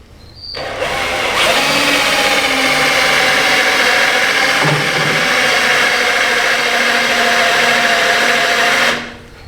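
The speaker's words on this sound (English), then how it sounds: "So that way we can get drilling." A power drill whines steadily at high speed for several seconds, loud and close, grinding through metal plates for a K24 prototype racer's front sway bar before spinning down.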